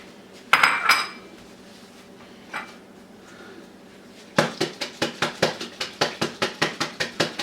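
Homemade garlic chive butter is scooped into a bowl: a couple of loud clinks and a soft knock, then a steady run of sharp, evenly spaced scraping taps of a utensil against the dish, close and without talk.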